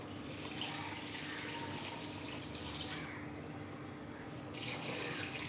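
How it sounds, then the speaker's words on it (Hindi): Steady, soft rush of water flowing and splashing into a cooking pot on the stove, with a slight burst of louder pouring near the end. "हम इसमें पानी डाल देंगे।"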